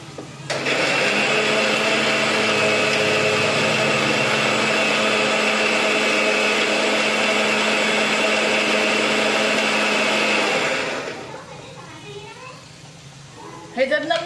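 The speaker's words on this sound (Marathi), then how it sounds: "ते वाटून घेते थोडासा." Kitchen mixer grinder running loud and steady for about ten seconds with a high whining hum, then spinning down, followed by light handling clatter.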